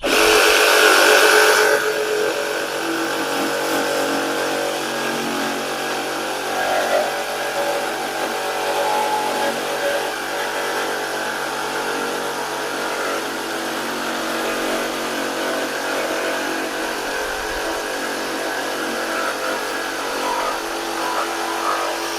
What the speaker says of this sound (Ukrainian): Давайте попробуємо зробити цією пилкою чистовий різ.